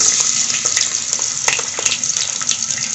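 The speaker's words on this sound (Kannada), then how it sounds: "ಇವಾಗ ಎಣ್ಣೆ ಬಿಟ್ಟು ಸಾಸಿವೆ ಹಾಕಿದ್ದಾರೆ. ಇಷ್ಟು ಬೆಳ್ಳುಳ್ಳಿ ಹಾಕ್ಕೊತಾ ಇದ್ದಾರೆ." Garlic and mustard seeds sizzle steadily in hot oil, a bright continuous frying hiss with faint crackles and pops scattered throughout, close and fairly loud with no talk.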